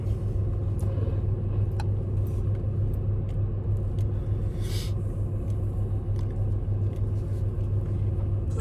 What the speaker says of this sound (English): I'm driving to the highlighted route.